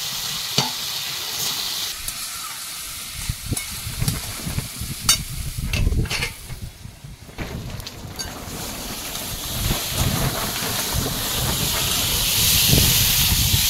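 Potatoes hit a pan of frying spice masala with Kashmiri chilli powder for egg curry over a wood-fired stove. A steady close sizzle and hiss builds louder, broken by scraping stirs of the spoon.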